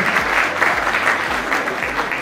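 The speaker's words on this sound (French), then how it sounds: "Je vous prie déjà d'applaudir pour eux avant que je ne fasse la présentation" Sustained audience applause for bank and finance professionals at a contest event, dense and steady clapping from a crowd throughout, no talking.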